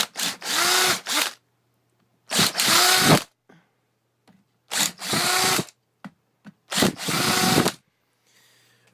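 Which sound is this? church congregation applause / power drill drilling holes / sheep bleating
power drill drilling holes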